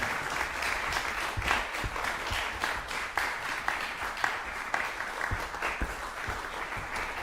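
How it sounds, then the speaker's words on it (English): Audience applause in the final round of a classical music competition: steady, dense clapping from a full hall, sustained at an even level with a few sharper claps standing out. "Round of applause."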